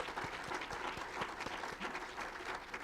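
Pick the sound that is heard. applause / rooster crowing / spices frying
applause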